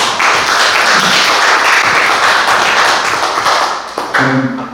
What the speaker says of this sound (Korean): 우리 황 교수님 박수와 함께